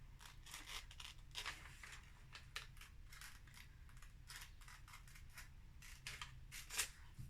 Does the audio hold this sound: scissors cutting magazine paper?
yes